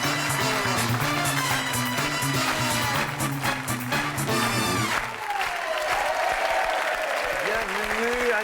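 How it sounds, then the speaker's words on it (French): A television game-show studio audience applauds loudly and steadily over upbeat music, with a presenter's voice carrying over the clapping in the second half. "Et on applaudit fort également Jean-Marie."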